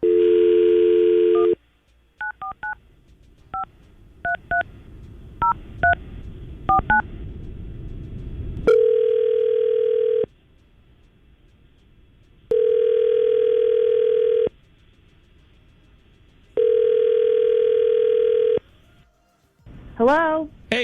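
Phone call being placed: a few seconds of dial tone, then a series of short touch-tone dialing beeps, followed by three long evenly spaced ringback tones with silent gaps between them, clear and close.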